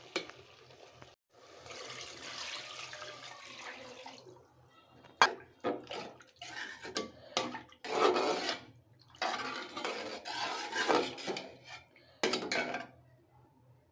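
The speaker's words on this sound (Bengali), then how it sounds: "ঝোলের জন্য পানি দিয়ে দিলাম" Water is poured into a pot of carambola fish curry made with local freshwater fish, with splashing, clinks of a pot and utensil, and bursts of stirring and bubbling at close range.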